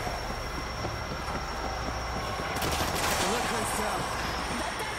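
Sustained rapid machine gun fire from the World War Z video game, set in Tokyo, a dense continuous rattle that swells louder midway, with voices talking over it.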